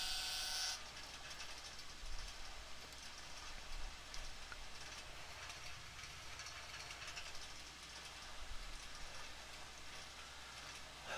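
A train runs along rails through tunnels and over bridges in the Minecraft video game, producing a steady, faint rumbling clatter with occasional low thumps and no talk.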